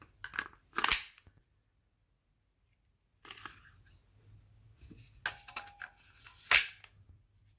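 Factory magazine sliding into an HK VP9 SK pistol: a few sharp plastic-and-metal clicks and snaps close by, separated by quiet gaps, with no talk.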